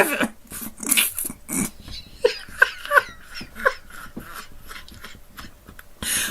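A dog barks and yelps in a quick, uneven series of sharp bursts, close and fairly loud, with brief pauses between them and no talk.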